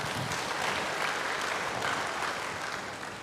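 Applause from a church congregation during a sermon, a full, steady rush of many hands clapping that holds throughout and eases off slightly at the end.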